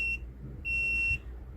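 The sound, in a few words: Let's Resin AI resin mixer beeping when finished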